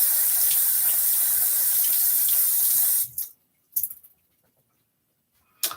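A shaving brush is rinsed under a running tap, a steady close rush of water for about three seconds before it shuts off, followed by a few faint drips and clinks.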